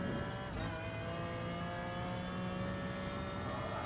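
In the GT Sport video game, a race car's engine drones at high revs with a steady, whining note. It rises slightly as the car accelerates out of a corner, and the sound is constant and loud with no talk.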